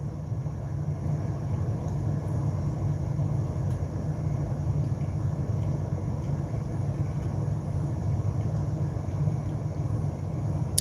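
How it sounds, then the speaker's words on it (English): Interior of a parked car on a work break, a steady low rumble and faint hum that fills the cabin evenly throughout with no voices. "I am in my car."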